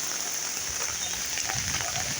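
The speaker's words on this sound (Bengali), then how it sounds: "তার মধ্যে সাথী কান্দে বাজাইয়া চা খাওয়ার মজাই গেল তার বৃষ্টির মধ্যে" Heavy rain falls in a constant, dense hiss, a steady wash of drops across surfaces with no pauses.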